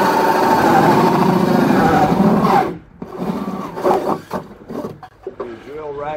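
A 4-inch hole saw cutting through a sump pump basin, a loud whirring grind for a few seconds that stops abruptly, followed by quieter talk.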